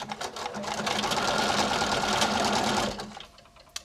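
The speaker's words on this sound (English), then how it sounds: "our machine can actually make automatic buttonholes, and we put on a buttonhole foot to do that" A sewing machine stitching an automatic buttonhole with a buttonhole foot, a fast steady close mechanical whir for about three seconds before stopping, with faint clicks after.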